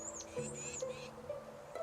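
Faint bird chirps from the fantasy video game Wildermyth, a few quick high tweets over a low background tone, with no talking.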